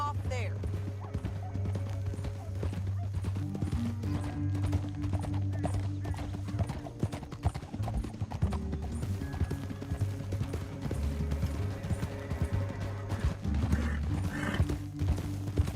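Horse hooves clip-clop steadily on a trail in Red Dead Redemption 2, several horses in a continuous rhythm, with occasional whinnies and a sustained musical drone underneath.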